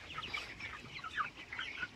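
Many chickens cluck together in a morning chicken-farm shed, a dense, continuous chatter heard at moderate distance and fairly faint, with no voices.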